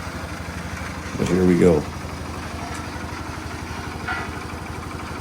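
Engine of the Flintstone Mobile rumbling at low idle while it drives onto a gravel pad, steady and close, with someone talking briefly over it.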